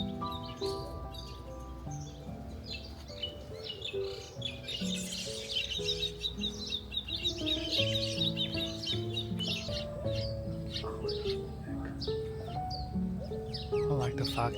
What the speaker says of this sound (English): I think the birds actually love this tree more. There are like tons of them in there.